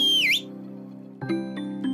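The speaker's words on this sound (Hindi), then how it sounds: "फिर उस जेलीफिश ने जोर से सीटी बजाई।" A loud whistle sound effect in a fairy tale story, a single high sliding whistle at the start that dips and rises, followed by soft low tones.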